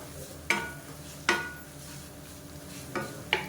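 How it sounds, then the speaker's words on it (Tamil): Food being stirred and sautéed in a hot kadai with the gas flame just turned off, for a traditional-rice idli and dosa batter: three sharp scraping stirs at spaced intervals over a faint, steady background hiss. "அந்த சூட்டிலே வதக்கி விட்டுக்கலாம்"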